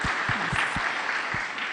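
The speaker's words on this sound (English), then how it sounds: "Big applause in that." Sustained audience applause at a film-industry fireside chat with Ranveer Singh, a dense steady wash of many hands clapping at even loudness throughout, with a few low thumps underneath.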